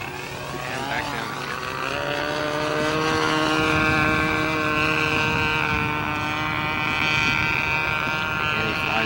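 A model airplane's small engine drones loudly and continuously, its pitch bending up and down as it strains and eases through a loop.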